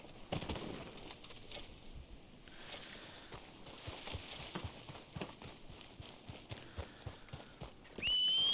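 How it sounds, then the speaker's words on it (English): Hooves clip-clop steadily under a busy game soundscape of a horse in Red Dead Redemption 2, with an occasional faint whinny, moderately quiet and nearby; no one speaks. "Vamos a subirnos al caballo"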